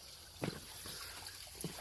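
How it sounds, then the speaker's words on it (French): Water from a small waterfall trickles and splashes steadily against a broad hiss, with a couple of brief louder splashes breaking through. "Là, il y a encore une cascade, comme je vous ai dit."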